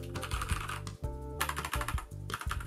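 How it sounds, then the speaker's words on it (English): Typing on a METOO wired USB mechanical keyboard fitted with Cherry MX Brown clone switches, the back raised on its rear clips; a quick, close run of clicky keystrokes with a few heavier thumps, no talk. "wired USB keyboard with mechanical switches"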